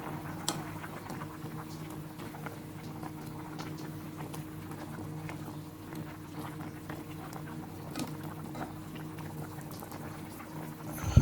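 Water bubbles and simmers steadily in a pot for chicken wing red curry, a soft continuous burble with scattered pops, close by and fairly quiet.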